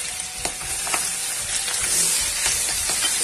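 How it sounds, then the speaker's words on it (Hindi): Onion sizzles and fries in a pan for veg pulao, a steady close crackle with intermittent stirring scrapes. "प्याज को मैंने थोड़ा सा बस भून लिया है"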